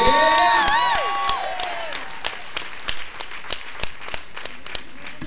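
Steady applause from a crowd at a poetry feature set, with scattered sharp claps and occasional cheering, whistles or shouts rising early on, continuing throughout.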